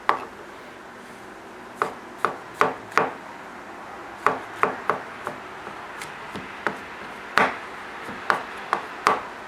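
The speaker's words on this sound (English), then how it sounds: "The mushrooms you want fairly small, so I do the stems first, then quickly slice the caps" A knife slices through mushroom stems and caps on a cutting board, crisp separate chops in an uneven rhythm, some in quick pairs, close and clear with no talking.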